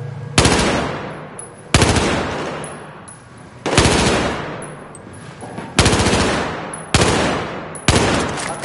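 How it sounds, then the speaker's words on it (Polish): Gunfire in the Battlefield 4 video game: six loud, sharp gunshots or short bursts at roughly one-second intervals, each trailing off in a long echoing decay. "Niezły strzał, Rekker!"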